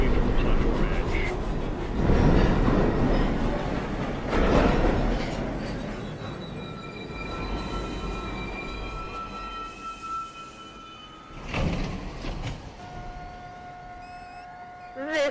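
NYC subway 1 train pulling into Lincoln Center station, loud rumbling surges that fade into sustained high wheel squeals and brake tones, with a platform announcement heard over the noise.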